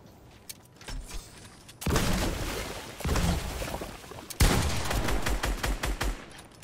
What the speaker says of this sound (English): Just firing rocket launchers